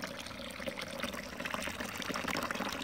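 Water pours from a jug in a cement garden waterfall fed by a hose and a second-hand aquarium pump, making a soft, continuous trickling splash that stays faint and even throughout.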